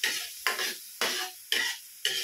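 Mushrooms sautéing in butter for a creamy beef dish, a close sizzle broken into five evenly spaced bursts as they are stirred, each flaring then settling.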